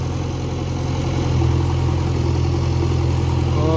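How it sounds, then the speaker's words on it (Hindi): Tractor engine idling at a farm loading organic manure in Udaipur, a steady loud low rumble with a constant mechanical hum and no pauses. "फ्रेंड्स, एक ट्रैक्टर और आ चुका है"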